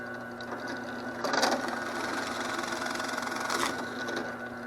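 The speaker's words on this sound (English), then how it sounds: "Now that we have our holes drilled in the sides and in the bottom floor" A drill bores holes through wooden boards for a bluebird house, a steady close motor whir with two brief louder bursts as the bit bites into the wood.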